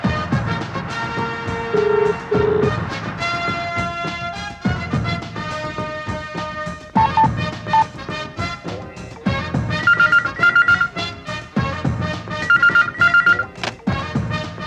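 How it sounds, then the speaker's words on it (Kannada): A telephone bell rings insistently in repeated bursts of bright electronic trills, loud and close throughout, without voices over it. "Pick up the phone."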